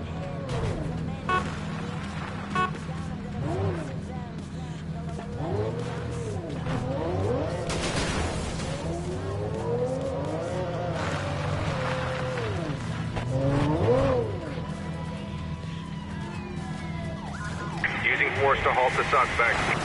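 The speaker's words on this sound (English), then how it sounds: "I have a speeding vehicle that's ignoring lights on Last Stallion Ranch." A speeding car flees a police pursuit in a video game, its engine revving and rising and falling in pitch with tire squeals, while voices talk over it and radio chatter cuts in.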